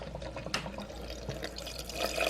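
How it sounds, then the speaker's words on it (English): Water is poured into the top of a Pioneer Woman portable coffee maker, a soft continuous splashing trickle with small drips, close and fairly quiet with no talking. "we're going to pour the water in the top"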